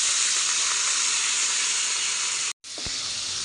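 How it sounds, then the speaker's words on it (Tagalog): Pork sautéing with onion and garlic in a pan, a loud, steady hiss and sizzle that cuts out briefly, then resumes with a clink of utensils. "gisa sa sibuyas at ang ating ahos"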